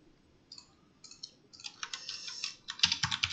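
Bursts of typing on a computer keyboard while a folder is named, quiet and close, with short pauses and then a denser, louder run of key clicks toward the end.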